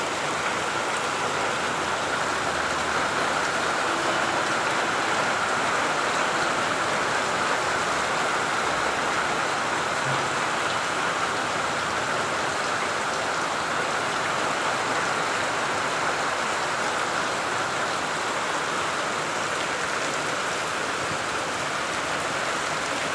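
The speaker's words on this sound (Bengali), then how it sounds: "অবশেষে ষষ্ঠীর বৃষ্টি।" Steady, dense rain pours down in Gournadi, Barishal, after intense heat, a constant even hiss of drops on surfaces lasting throughout without any voices.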